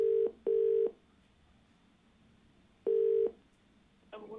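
A phone call connects to a caller on a Hindi TV call-in show, with three steady electronic ringback tones separated by silent gaps, then a faint line noise as the call picks up.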